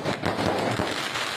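Firecrackers bursting at a Tamil temple festival during Chitra Pournami kavadi, a dense, loud, continuous crackle of rapid pops filling the air with no voices.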